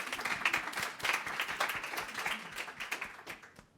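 A modest audience claps warmly for a panel being welcomed to the stage, a fairly sparse patter of distinct hand claps that fades out toward the end.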